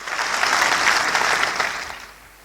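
Audience applause at an Achievers Day celebration, a loud burst of many hands clapping together for about two seconds, then tapering off quickly.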